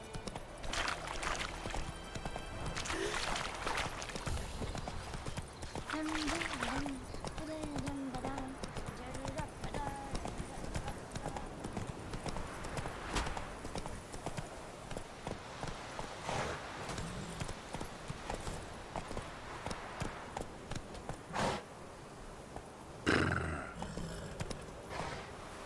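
Horse hooves clip-clop steadily through a long stretch in The Witcher 3, with occasional whinnies, under a man's speech throughout.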